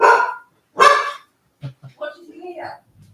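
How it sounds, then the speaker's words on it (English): A dog barks in a home garden: two loud, sharp barks close by, followed by softer yips and low whines, with brief talk nearby. "He'll bark in the garden, but at least it's not quite so ear shattering."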